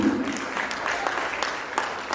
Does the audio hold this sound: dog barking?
no